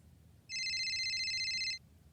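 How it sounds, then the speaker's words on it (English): A telephone rings once with a bright, steady electronic trill lasting just over a second, loud and clear over a quiet background with no speech. "the phone rang."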